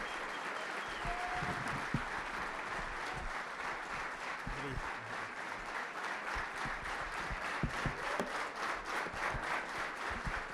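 Members of the New Creation Church congregation clap steadily to welcome the singer. The applause is a long, even, rhythmic patter heard from inside the crowd, with a few faint voices beneath it.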